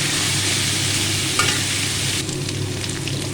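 Flattened rice (chire) and peanuts fry in oil while being stirred, giving a loud, dense, continuous sizzle with faint scraping, and no voices.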